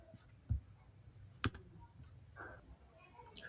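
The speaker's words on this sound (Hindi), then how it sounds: "न्यू नोटबुक पर क्लिक करना है।" A few faint, sharp clicks of a computer mouse in a quiet room, with soft scattered ticks between them.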